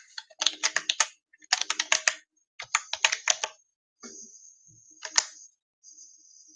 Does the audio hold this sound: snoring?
no